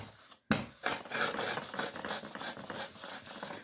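Rock pigment being ground into oil paint makes a continuous gritty rasping scrape, close and fairly loud, with rhythmic strokes after a brief pause at the start.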